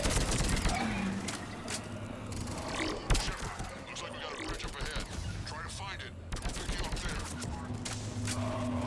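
Gunfire in Mass Effect 3 combat, steady crackling weapon fire with scattered sharper shots and mechanical clatter, a heavy thump midway, and voices talking over the shooting.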